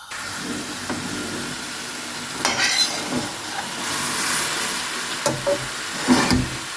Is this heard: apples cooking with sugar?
yes